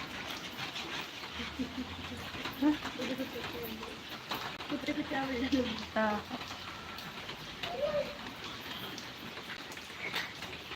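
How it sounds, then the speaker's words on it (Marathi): Steady patter of monsoon rain that has fallen for days, falling outdoors, a soft constant hiss with scattered drops, while voices talk quietly over it. "हो हो पाऊस चालू आहे बाहेर"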